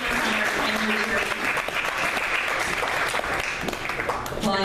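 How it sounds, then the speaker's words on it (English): A large audience at a Royal Family Kids evening event breaks into loud, sustained applause, a dense wash of clapping filling the whole stretch, with a voice and brief sounds emerging near the end. "Can we give Annie a huge round of applause for taking us on our family journey?"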